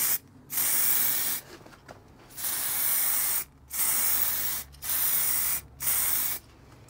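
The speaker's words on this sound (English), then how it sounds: "But I'll spray the red first." An aerosol can sprays red paint onto a vintage Raleigh bicycle frame in loud, steady hissing bursts, about five of them with short pauses between. There is no talk.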